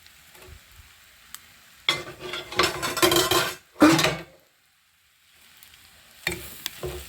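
Chopped chapati pieces are stirred and tossed in a pan for chapati noodles, with a scraping and sizzling spatula sound that comes in a few strong bursts and then stops briefly before a final stir.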